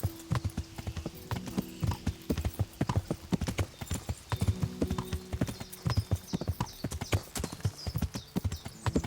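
Warhorse hooves clip-clopping in the video game Kingdom Come: Deliverance, a steady close rhythmic trot of distinct hoof strikes continuing throughout, with a faint whinny-like tone and light background ambience.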